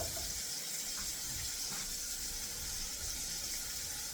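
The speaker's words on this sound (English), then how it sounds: "This is 2 cups of water for 3 cups of rice." Water gushes steadily into a cooking pot as rice is prepared, a loud continuous rushing pour that lasts the whole stretch with no break.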